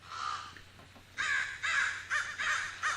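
A human voice imitates crow caws: a run of harsh, nasal caws in uneven bursts, fairly close and steady in level, with no other talk.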